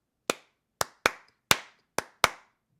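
Six crisp, close hand claps ring out in a syncopated pattern, uneven spacing with some beats skipped and others close together, each sharp and dry against silence.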